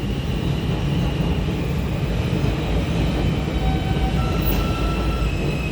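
F train moving through Roosevelt Island subway station in early morning rush hour, a loud, continuous rumbling roar of rail cars with faint high wheel squeal, no voices.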